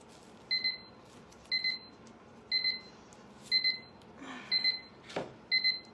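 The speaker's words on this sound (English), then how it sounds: "There's our timer for our etching cream." Kitchen timer for etching cream going off, a repeated electronic double beep in regular bursts about once a second, with some handling clatter and a short scrape near the end, no talking.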